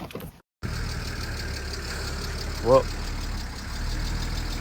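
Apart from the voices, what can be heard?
BMW E36 engine starting and idling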